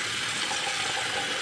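Tap water runs steadily into a container while meat is set to soak in a home kitchen, a brief continuous gushing hiss with no voices.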